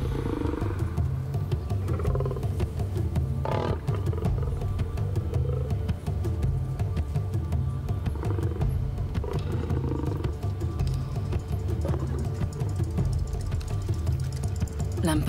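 A male lion in the African wild roars and growls near a leopard that has climbed a tree. The deep, rumbling sounds are close and carry on steadily throughout.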